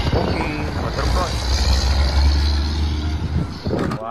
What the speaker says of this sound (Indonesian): Wah, kalau yang ini truk tangki.